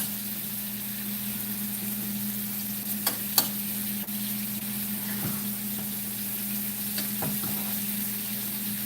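Chuck eye steaks sizzle in melting butter over very high heat, a steady close hiss over a constant low hum, with a few faint clicks and scrapes scattered through.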